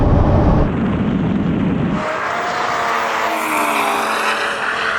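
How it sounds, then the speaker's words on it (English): A tuned VW Golf R roars past at full throttle in a drag race, loud close engine noise rising, then a gear change and the pitch climbing again as it draws away. "here comes a bloody Golf now!"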